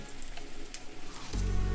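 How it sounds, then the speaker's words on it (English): Sweet plantain dropped into hot frying oil, a sudden steady sizzle starting about three-quarters of the way through and continuing loud and close to the end after a quieter stretch. "dip the edge of it in there, and you should be able to hear a sizzle"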